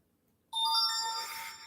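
A phone's electronic ringtone starts abruptly and rings on steadily, fairly loud and close, with no talk over it.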